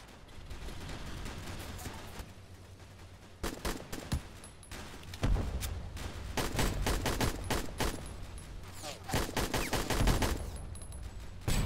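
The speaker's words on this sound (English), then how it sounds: "Man, what a gunfight." Gunfire in a Roblox WWII airship assault battle game, with scattered distant shots giving way to long, loud stretches of rapid machine gun bursts and overlapping rifle cracks.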